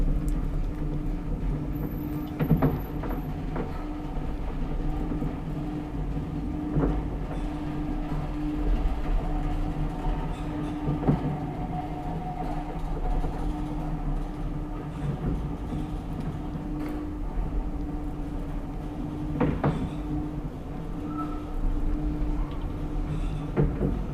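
A 1959 Kone traction elevator in a Helsinki apartment building hums and rumbles steadily as it runs, with scattered clunks and clicks from its doors and mechanism, fairly quiet and enclosed.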